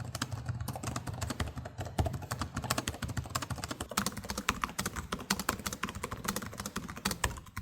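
Rapid, continuous keystrokes clatter on a laptop keyboard, a dense stream of light clicks at a steady typing pace, close and alone.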